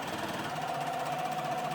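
A sewing machine runs steadily, stitching base stitches into wrap skirt fabric, a quiet continuous mechanical whir with a rapid rhythmic patter and no talking.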